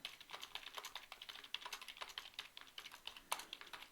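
Fingers type a search query on a computer keyboard, a quick, steady stream of soft key clicks heard close and quiet, with no voices.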